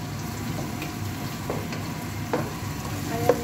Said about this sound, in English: ilalagay natin yung onion natin.